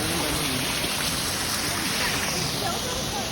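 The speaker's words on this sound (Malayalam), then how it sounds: "ഇത് മേലെന്ന് വരുന്ന വെള്ളം ഇങ്ങനെ ഇതിലൂടെ ഇറങ്ങി ഇങ്ങനെ പോവാണ്." Water pours down from a small dam-like structure at a boating spot in Darjeeling, a loud, steady rushing roar that fills the whole span without letting up.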